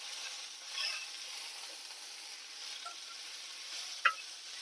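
Mint leaves roast in a pan for a chutney with a soft, steady sizzle and faint stirring, plus one sharp small clack near the end.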